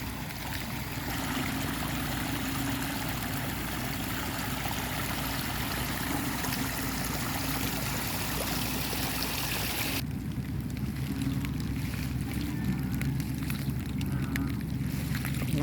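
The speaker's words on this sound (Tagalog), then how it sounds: "Lakas ng agos ng tubig." Strong stream current rushes steadily along a paddy embankment on a rainy morning, a dense continuous wash of flowing water that grows noticeably softer and thinner for the last few seconds, with no voices.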